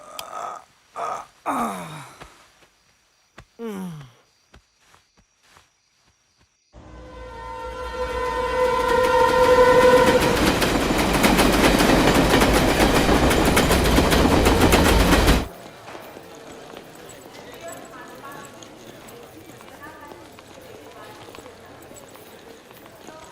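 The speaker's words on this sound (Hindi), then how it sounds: "देखो यहीं से सारी ट्रेनें गांव जाती हैं।" Train at Lokmanya Tilak Terminus (LTT) railway station in Mumbai, a loud rumbling pass with tonal horn-like whine for about eight seconds, preceded by voices and followed by quieter station bustle and talk.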